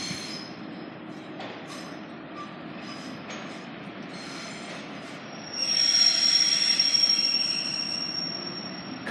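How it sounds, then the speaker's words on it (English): A Class 144 diesel train arriving at Huddersfield station, with wheels squealing sharply against the rails as it rolls in, and the rumble growing louder partway through. "Next in now is another Sheffield service and another 144."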